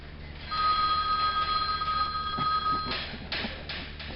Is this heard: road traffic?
no